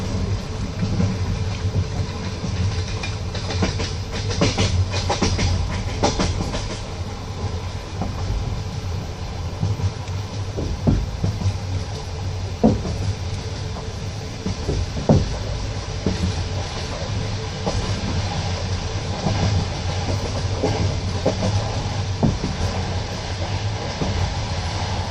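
Train wheels clattering over rail joints, heard from inside a moving Russian passenger train, a steady rolling rumble with irregular clicks and clacks throughout and no voices.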